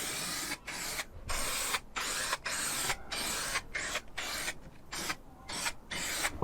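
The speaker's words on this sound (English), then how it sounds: "So we want the spray adhesive" Spray adhesive hissing from an aerosol can onto a sheet of plywood during a camper van conversion, in several close, steady bursts separated by short pauses.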